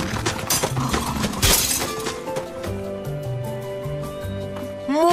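An ice walker is smashed to pieces in an Ice Age 3 cutscene: a loud burst of shattering, breaking ice and glassy debris, then scattered tinkling fragments over a swelling musical score.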